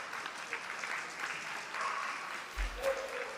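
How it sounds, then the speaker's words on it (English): Ringside spectators at a dog show for utility and pastoral breeds clap in a faint, steady patter from a distance, with brief low thumps near the end. "Can we give a round of applause to those leaving the ring"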